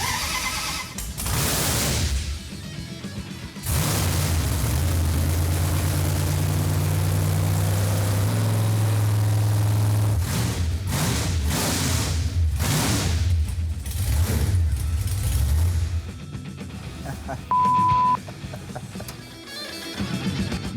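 Hemi engine rated at 923 horsepower cranking over in a 1964 Dodge A-100 van, a loud sustained low mechanical drone running for about twelve seconds, with sharp bursts and clatter near the end.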